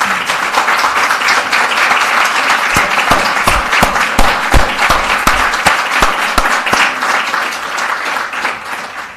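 Applause rises from the audience at a freedom of information award ceremony, dense and steady with distinct close claps standing out midway before it starts to taper.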